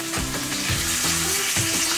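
Korean mackerel sizzles steadily in a hot pan, a dense, continuous frying hiss with faint stirring and shifting sounds underneath, close and fairly loud with no voices.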